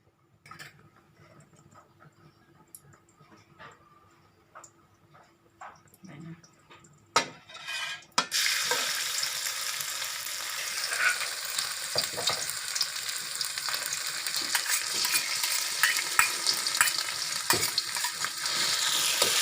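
Chicken stir-fries in pork lard with chili and garlic for a Thai basil dish, starting with quiet clinks and taps before a loud, continuous close sizzle swells up, with metal utensil scrapes throughout.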